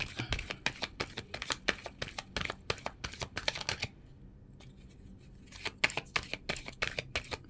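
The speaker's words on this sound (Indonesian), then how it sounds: "Fokus kembali, kita akan menebar kartu." Tarot cards are shuffled and spread in a fast series of crisp, papery riffles and flicks, close by and fairly quiet, with a brief lull midway.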